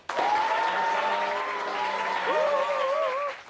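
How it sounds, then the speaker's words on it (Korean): A classroom of students claps for a new student teacher, with sustained cheering voices over a short, full burst of applause that cuts off near the end. "박수!"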